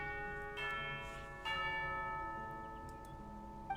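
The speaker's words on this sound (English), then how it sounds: "You hear the sound of a bell." A tea time bell chimes in the video game Genshin Impact, ringing out twice with bright sustained tones that linger and fade over a low ambient hum.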